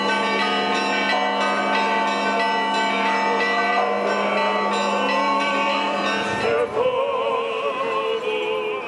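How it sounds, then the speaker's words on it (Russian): Church bells ring during a procession around a church at a patronal feast in Adler, a sustained ringing of several bells with layered tones, loud and close throughout. "Звонили колокола"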